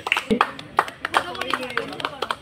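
Scattered hand claps from a small group at a picnic prize giving, short uneven bursts of applause over several seconds, mixed with chatter and voices talking nearby.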